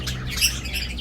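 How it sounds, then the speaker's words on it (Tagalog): African lovebirds squawk and chirp sharply in an aviary, several close, shrill calls overlapping in quick succession with no speech. "Ito na po yung ating mga African lovebird"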